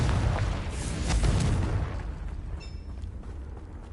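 A Confringo spell blast in Hogwarts Legacy, a loud booming burst that rolls out and fades into a softer rumble with a faint high shimmer at the end.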